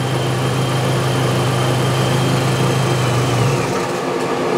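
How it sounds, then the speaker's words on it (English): A GM 1.4-liter GDI engine on a ConsuLab EM-140S-GM04A bench runs with a loud, steady droning hum, then its tone drops away near the end as it stalls. "The engine starts fine, it'll run for a while, and then stall."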